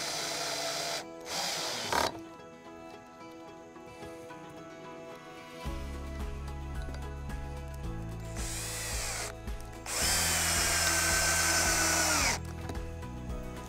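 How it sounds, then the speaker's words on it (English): A power drill drives screws into 2x4 lumber while building a wooden frame for a compost sifter, with short bursts of whirring motor separated by quieter pauses and clicks. "screw those pieces into the longer lengths of 2x4"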